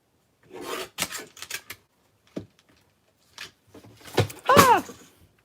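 A paper trimmer slicing through patterned paper at a craft table, heard as a few short dry scraping strokes, near and fairly quiet, with a soft voice in between.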